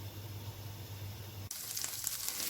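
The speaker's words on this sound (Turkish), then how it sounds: "Kapya biberlerime yeşil biberleri de ekledim ve kızartıyorum." Steady oil sizzle of red peppers frying in a pan, with a sharper, brighter crackle that swells partway through as green peppers hit the hot pan.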